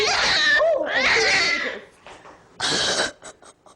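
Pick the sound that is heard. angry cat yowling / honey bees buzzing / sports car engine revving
angry cat yowling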